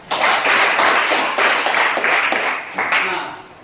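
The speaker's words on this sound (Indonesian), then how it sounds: "Ya, tepuk tangan." Students in a classroom clap in a quick, lively burst of applause with an uneven rhythm, loud and close, easing off toward the end.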